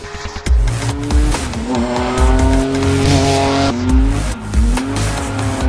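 Renault Twin'Run concept hot hatch with a 3.5-litre V6 of about 350 horsepower, driven hard on a track: a loud, close engine wail rising and falling through gear changes, with tyre squeal and no talk.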